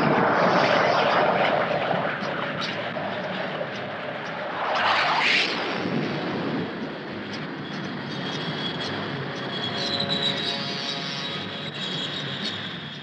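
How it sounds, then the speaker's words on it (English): Skyhawk jet fighter bombers launch from the aircraft carrier Melbourne; a steady jet roar builds and surges loudly near the middle, then settles into a sustained engine drone with no talking. "Melbourne is preparing to launch some of her fighter aircraft on another mission"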